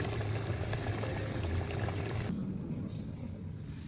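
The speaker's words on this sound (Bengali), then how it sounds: "এভাবেই সিদ্ধ করবো" Vegetables, including eggplant, boiling with coriander leaves in a pot make a dense, continuous bubbling rush up close that steps down to a softer simmer partway through.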